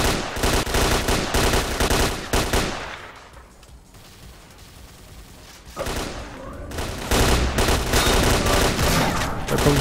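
Bursts of rapid gunfire in S.T.A.L.K.E.R.: Clear Sky crackle loudly, pause into a quieter lull, then resume with heavy, sustained shooting.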